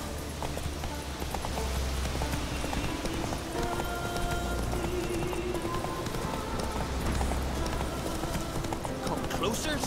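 Horse hooves gallop in The Witcher 3, a fast, steady clip-clop beat running through the whole stretch under a low rumble of game ambience, with voices talking over it.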